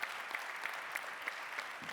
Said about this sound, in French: Je vous demanderai de renouveler vos applaudissements pour notre experte et nos experts